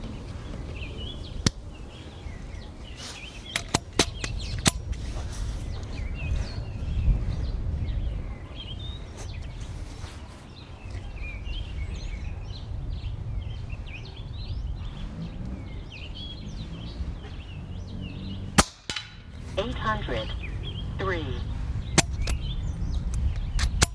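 An RTI Priest PCP air rifle fires JSB Diablo 25.39-grain pellets in a five-shot group, giving sharp, close, evenly spaced cracks over steady outdoor background noise.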